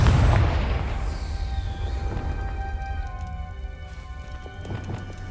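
A Confringo spell detonating in Hogwarts Legacy, a heavy booming blast at the start that fades into a crackling, rain-like rumble with faint magical tones lingering afterward.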